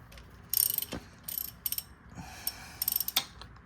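A ratchet wrench loosens the oil drain bolt on a Kawasaki KLX 110 dirt bike in several quick bursts of close, rapid clicking, separated by short pauses.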